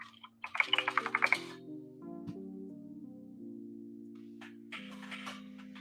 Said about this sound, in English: I was having too much echo of the keyboard's tapping voice